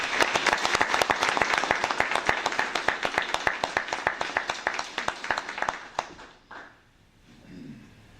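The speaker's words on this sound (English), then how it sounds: "Please give these gentlemen a round of applause." A board meeting audience applauds firefighters receiving awards with dense, sustained clapping for about six seconds, which then drops off into a quieter room with faint voices.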